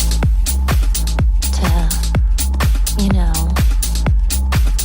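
Excerpt of a dance-pop song, a steady pounding four-on-the-floor kick with synths and a sung vocal line, loud and continuous, with people briefly talking over it.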